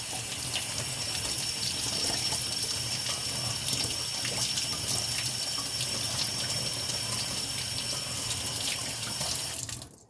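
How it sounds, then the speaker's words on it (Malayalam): A kitchen tap runs steadily into a sink while a crab is rinsed clean under the water, a continuous close splashing stream with small clinks, no voices, ending abruptly. "നല്ലതുപോലെ ഇവിടെ വെള്ളം ഒഴിച്ച് ക്ലീൻ ചെയ്ത് കൊടുക്കാം."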